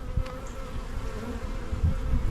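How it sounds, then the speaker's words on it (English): Honey bees buzz steadily over a beehive frame, a close, continuous droning hum from many insects without pause. "there's enough bees covering them"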